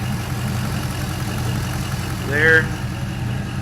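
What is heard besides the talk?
LS engine idling at about 700 RPM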